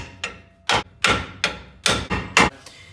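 Hammer striking a car steering spindle to free a ball joint, six or seven sharp metallic blows in quick irregular succession, close and ringing.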